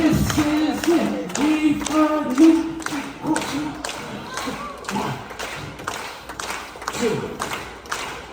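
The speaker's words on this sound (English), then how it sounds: "Stop clapping!" A dining room on a Love Boat–themed Princess cruise ship, with passengers clapping and tapping along in uneven bursts under steady background chatter and voices.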